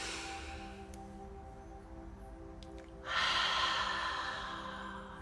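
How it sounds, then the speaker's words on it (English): A deep inhalation during a guided breathing exercise, a broad airy rush that swells suddenly partway through and holds steady, close and fairly loud over a faint background hum. "So we're going to breathe in."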